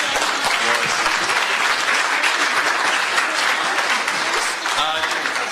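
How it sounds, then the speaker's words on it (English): Audience at a Communist Party USA convention applauds its panelists with dense, steady clapping throughout, a voice faintly heard over the ovation near the end. "Let's give them another round of applause."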